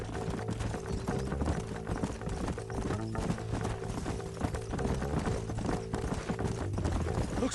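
Horse hooves clip-clop steadily through the whole stretch in the Red Dead Redemption video game, mixed under a continuous bed of music and game sound, with a voice talking intermittently.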